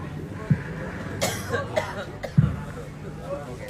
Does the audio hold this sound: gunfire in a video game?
no